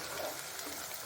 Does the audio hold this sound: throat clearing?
no